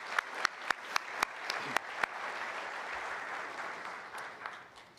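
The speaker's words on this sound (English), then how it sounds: "I'm going to give us a clap there." Audience at a Pleasanton State of the City address breaks into applause: a few distinct, sharp early claps quickly swell into a sustained wash of crowd clapping that gradually tapers off.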